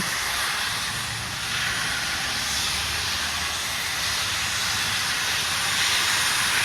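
A Darjeeling steam locomotive releases a loud, continuous hiss of steam, steady and close for the whole stretch, with a low rumble underneath and no voices.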